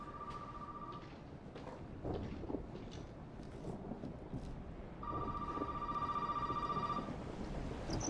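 A telephone rings in the horror video game Resident Evil 7: one short electronic ring, then a longer two-second burst, over a low rumbling ambience like storm and rain, with no voices.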